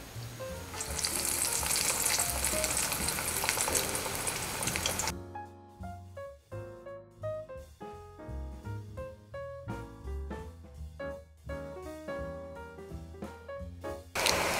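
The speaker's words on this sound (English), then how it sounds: "Now let's fry the nuggets." Veggie nuggets coated in cornflakes fry in hot oil in a pan, giving a loud, dense hiss of sizzling that suddenly drops away and leaves softer crackles and bubbling pops, close and without talk.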